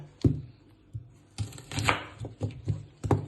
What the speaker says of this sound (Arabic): بين ما يحمل زيت راح نفرم بصل